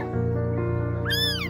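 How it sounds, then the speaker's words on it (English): A tiny kitten gives a short, high, plaintive meow near the end, heard over a louder sustained musical drone. "heard a tiny kitten crying for help"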